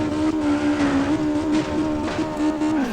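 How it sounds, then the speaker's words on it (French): A drifting car in the CarX Drift Racing video game holds a loud, continuous engine whine blended with sustained tire squeal, its pitch wavering slightly as the slide carries on for about three seconds without talk. "on va commencer avec un super drift en beauté"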